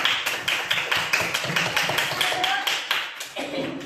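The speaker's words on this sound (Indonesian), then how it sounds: "beri dulu tepuk tangan untuk kelompoknya" A classroom of students gives a short patterned clap for a group, rhythmic bursts of hand claps in quick, evenly spaced beats.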